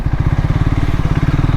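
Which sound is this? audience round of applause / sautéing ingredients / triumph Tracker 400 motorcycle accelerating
triumph Tracker 400 motorcycle accelerating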